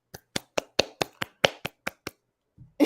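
Ten crisp hand claps in an even, quick rhythm, close and isolated in a quiet room, followed by a brief pause and a voice starting.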